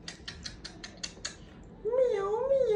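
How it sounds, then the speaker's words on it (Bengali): A cat meows at a veterinary clinic, one long wavering close cry after a series of soft clicking taps, with faint background murmur. "Miao Miao Miao."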